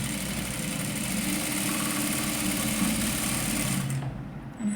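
Sewing machine stitching a katori blouse seam, a fast continuous mechanical whir and needle chatter running steadily close up, then stopping abruptly near the end.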